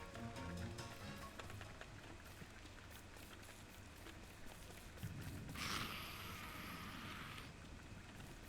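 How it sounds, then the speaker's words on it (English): Rain in Don't Starve, a soft, steady patter and hiss under quiet game music, with a brighter swell of falling rain rising midway before easing. "And it's back to rain."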